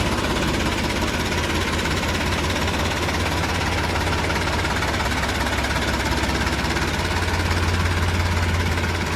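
A farm tractor idles steadily close by, a continuous low rumbling chug with a knocking pulse that stays loud and unchanged throughout, with no talk.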